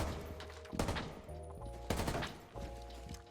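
Gunfire in Rainbow Six Siege: three short bursts of shots spaced about a second apart, sharp and moderately distant, with no talk.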